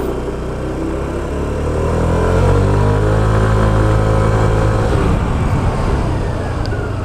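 A Kymco Dollar 150 scooter ridden over a rough road around Baguio City, its engine droning steadily close by and swelling slightly midway, with jolting road noise underneath and no talk.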